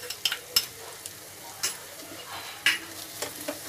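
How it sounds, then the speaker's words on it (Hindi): Masala is sautéed and roasted in a pan, a close steady sizzle punctuated by several sharp spatula scrapes and knocks against the pan at irregular intervals. "अब इसको हम अच्छे से भूनेंगे, 3 से 4 मिनट तक भूनेंगे इसको अच्छे से।"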